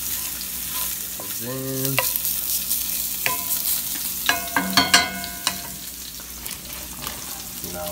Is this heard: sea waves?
no